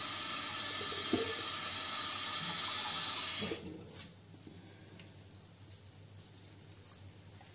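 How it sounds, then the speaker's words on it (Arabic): About a quarter cup of water is poured into a pan for cooking swordfish, a steady hissing splash for roughly three and a half seconds that then stops, leaving a quiet kitchen. "هنحتاج بس نحط بس ربع كوباية مية مش اكتر."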